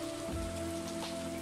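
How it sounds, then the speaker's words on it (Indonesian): Steady rain falling in the video game Stardew Valley, a dense continuous patter of drops on surfaces with a faint tonal hum beneath, even and unbroken throughout. "Kalau ini rintikan hujan kan, bukan gelembung."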